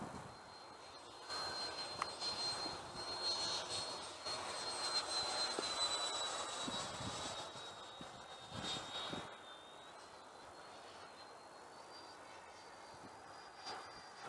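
A Freewing F-22 90 mm RC jet flies with its flaps down on a windy day. Its thin, high whine drifts in pitch at a distance and stays fairly faint under a broad wash of air noise.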